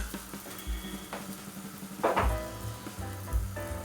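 Red pepper powder toasting in a hot pan for a tomato-paste couscous pasta dish, giving a low, steady sizzle with a few louder stirring scrapes and clatters partway through.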